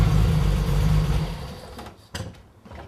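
Triumph GT6 engine running loudly at close range, a steady low rumble that fades away partway through, leaving quieter scuffs and knocks.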